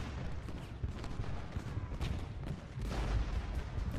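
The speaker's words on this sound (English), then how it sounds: "They're under cannon fire" Cannon fire from a Gettysburg battle in the Ultimate General: Gettysburg video game, with muffled, overlapping booms rumbling continuously at a fairly low level and no voices.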